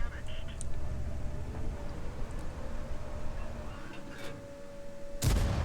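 A tank cannon fires in the World of Tanks video game, one sharp booming shot near the end that follows a low rumble of engine and battlefield noise, with a voice talking throughout.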